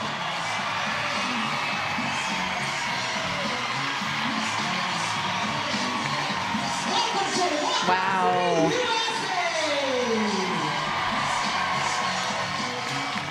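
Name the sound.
huge home crowd cheering a softball walk-off win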